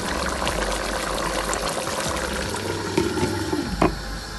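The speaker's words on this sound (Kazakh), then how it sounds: "дәміне қарай тұз, бұрышын қосып, үстіне қайнаған су құямыз." Boiling water poured over salted, peppered meat in a pot for Kazakh nan salma, a steady broadband liquid rush running the whole time with a few sloshing surges near the end, close and fairly loud, no talking.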